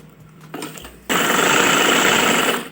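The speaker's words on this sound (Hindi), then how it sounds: "अब इस तरह एक दूसरे के ऊपर रख के एक एक पैर का फासला छोड़ के हम सिलाई लगाएंगे" A sewing machine sews net kurti fabric layered with lining, a few soft clicks first, then a sudden loud, steady, close-up whirring run of stitching that continues to the end.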